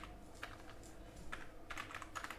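Code is typed on a computer keyboard in quick, faint bursts of clicking keys at close range, with short pauses between runs.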